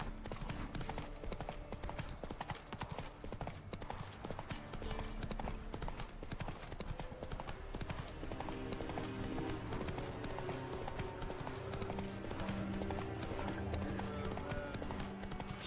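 Hooves of Geralt's horse Roach clip-clop steadily in The Witcher 3, a continuous trotting rhythm under a swelling orchestral music bed.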